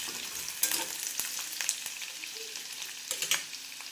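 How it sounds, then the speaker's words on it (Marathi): Chopped onion sizzles steadily in hot oil with cumin and mustard seeds for an ivy gourd (tondli) vegetable dish, with sharp crackles and occasional stirring clicks against the pan, close and continuous with no voices. "कांदा टाकून ठेवूया. आणि याला बघा अशी छानपैकी परतून घ्यायचं"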